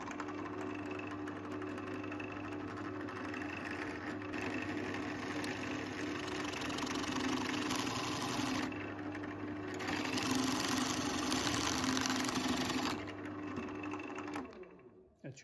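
Drill boring into a wooden part for a decorative wooden bicycle, a steady mid-pitched motor whine running for about fourteen seconds with slight changes in load, close and fairly quiet, then winding down at the end.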